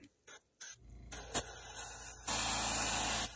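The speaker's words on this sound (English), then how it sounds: "So we'll just give it a good spray and see how it comes out." A couple of short hissing spurts, then a long steady spray hiss from an aerosol can painting a crankbait fishing lure, close and continuous to the end.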